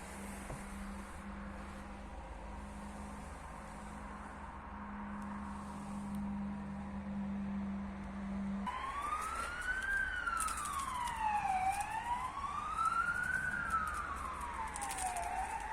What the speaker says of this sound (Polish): na pewno słychać, tak jak mówiłem, droga dość ruchliwa, uczęszczana